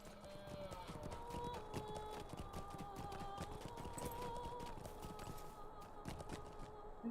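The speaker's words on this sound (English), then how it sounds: "We're gonna get on a horse." Video game horse hooves clip-clop at a steady, rapid riding rhythm in the ruins of Evendim, faint and even, with no talk.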